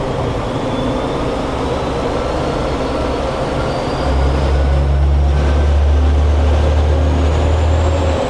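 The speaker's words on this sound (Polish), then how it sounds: "Jeszcze jeden fakt na temat pociągu, jest to napęd diesla." Steady rumble of a diesel train running through Kyushu, Japan, heard from on board, with a loud low engine drone that deepens and grows heavier partway through, alone with no talk.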